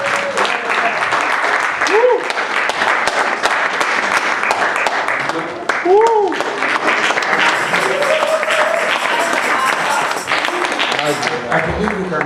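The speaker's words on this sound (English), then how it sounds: "Give God a round of applause." A church congregation claps loudly and steadily for God, with voices rising and shouting over the applause throughout.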